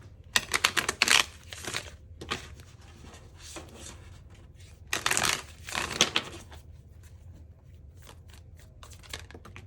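Tarot cards shuffled by hand, with two dense bursts of riffling and flicking around the start and the middle, then quieter scattered card handling. Close and fairly soft, with no talking.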